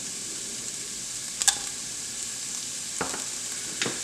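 Vegetables and red chilies for a beef barley soup cook in a pot with a soft, steady sizzle and hiss, broken by a few sharp clinks and taps, close and fairly quiet, with no talking.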